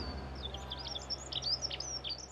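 Artificial birdsong plays at a Munich car show, a quick run of bright chirps and tweets over a low steady background hum, moderately faint with no voices.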